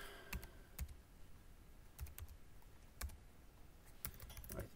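Keys clatter on a computer keyboard while a setting is typed into a code editor, a few quiet, irregular clicks spaced about a second apart against a faint background.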